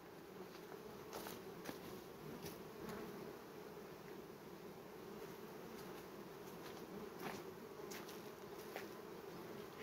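Two honeybee swarms being merged buzz continuously in a soft, steady drone, with occasional louder passes of individual bees close by.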